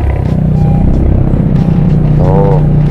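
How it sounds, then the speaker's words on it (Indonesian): A Honda Civic Turbo sedan engine idles after a cold start with a steady low exhaust rumble close by, throbbing continuously, with a brief higher whine partway through. "ada gemaan-gemaan suara dari knalpotnya"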